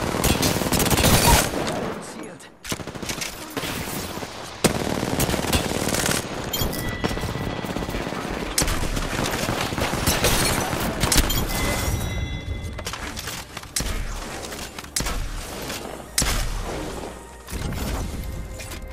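Heavy gunfire in Apex Legends rattles in long automatic bursts and scattered shots, loud and close, with brief gaps and impacts between volleys and occasional voices.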